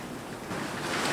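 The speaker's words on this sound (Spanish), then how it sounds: "Madre mía, está cayendo un aguacero ahora mismo." A heavy rain downpour in Aruba roars as a steady broadband wash of noise, loud and unbroken throughout.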